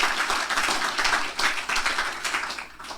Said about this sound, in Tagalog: Isang pinakamalakas na palakpak kay Lord.